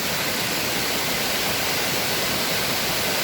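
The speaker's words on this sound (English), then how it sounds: "There's a little pool down there, and it's sort of cascading down there behind me." Water cascades down Gamay Falls into a pool below, a dense, constant rushing roar close by and loud, with no voices.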